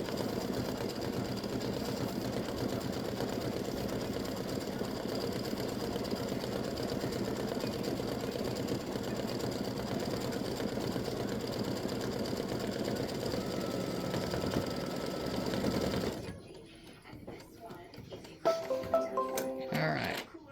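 An embroidery machine stitches a Halloween spider design in a steady, continuous mechanical hum for most of the span, then stops, leaving a few quieter clicks and handling sounds near the end.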